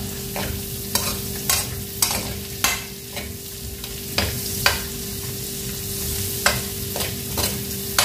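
Adobo pork fries and sizzles in a pan while a utensil repeatedly stirs and scrapes it, the sharp stirring strokes landing at an uneven rhythm over a continuous close sizzle.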